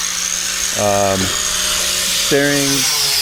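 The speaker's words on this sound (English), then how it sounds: "he's just going over all the welds, buffing all the welds up, just to make it look that much better" A power buffer polishes the welds on a custom car chassis, giving two short high-pitched whining bursts against a steady background hiss.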